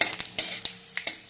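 Cumin seeds, fennel seeds and red chilies frying in hot oil in a pan for a village-style radish greens and potato dish, with a soft sizzle broken by several sharp stirring and utensil clinks, close and fairly quiet.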